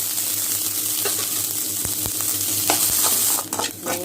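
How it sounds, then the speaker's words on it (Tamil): Chopped onion, green chilli, coriander leaves and curry leaves sizzle steadily in a little oil in a pan, with occasional scraping stirs and a brief splash of water near the end. "வெங்காயம் வதங்கிடுச்சு."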